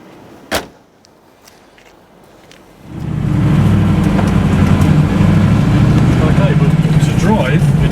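A car door clunks shut, then the V8 engine of a Morris Minor starts and settles into a loud, steady rumbling idle.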